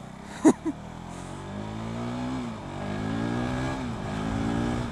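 A KTM RC390 motorcycle engine idles with a steady low rumble, then rises and falls through a couple of throttle revs, with two sharp clicks near the start.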